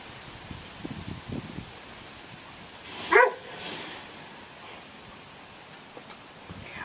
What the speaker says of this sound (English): Come here, puppies.